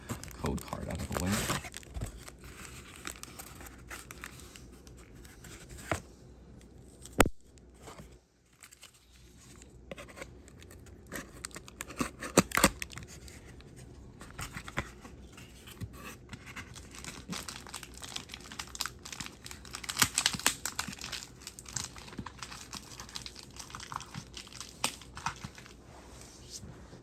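Beyblade X toy packaging being opened by hand, with tape torn and plastic crinkling in close, irregular bursts of rustling and ripping that carry on throughout, broken by a few sharp handling knocks.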